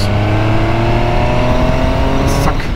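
MV Agusta Superveloce 800 motorcycle accelerating hard in fifth gear from about 60 to 100 km/h on the autobahn, a loud continuous engine roar rising steadily in pitch.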